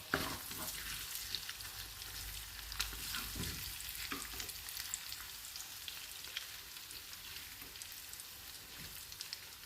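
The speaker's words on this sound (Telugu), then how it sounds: "ఇంకో పక్క మంచిగా ఫ్రై చేసుకోవాలి, చిన్న చిన్నగా ముక్కలుగా." Small egg pieces fry in a pan with a soft, crackling sizzle and scattered light stirring taps, fairly faint but continuous, with no voices.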